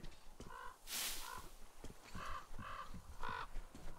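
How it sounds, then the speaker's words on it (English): Crows cawing in the video game Metro Exodus, a series of harsh, repeated caws in short bursts with a loud noisy rush in between, fairly close and continuing throughout. "Shut these crows the fuck up,"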